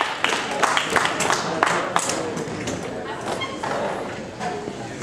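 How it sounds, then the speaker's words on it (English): An open-mic audience gives a round of applause, a burst of scattered clapping close by that thins out over a few seconds, with a voice or two calling out over it. "give him a round of applause"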